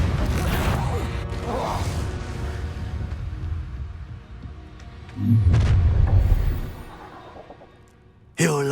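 A Bombarda explosion spell in Hogwarts Legacy goes off midway as a loud, booming blast with crashing debris and a whooshing tail, amid rumbling game ambience and voices, followed by a sudden sharp burst at the very end.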